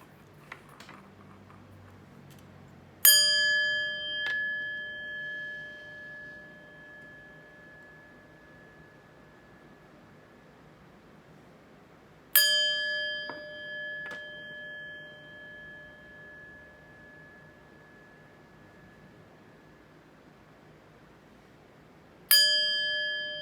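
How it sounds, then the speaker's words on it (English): Three separate chime strikes ring out clearly, each a bright metallic ding that decays slowly over several seconds, spaced roughly ten seconds apart against a quiet background. "let's chime"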